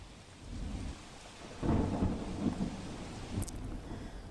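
Steady unseasonal rain hiss in Banaskantha, Gujarat, with a low rumble of thunder swelling midway, moderately loud, then easing under continuing rainfall.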